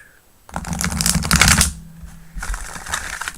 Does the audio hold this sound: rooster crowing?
no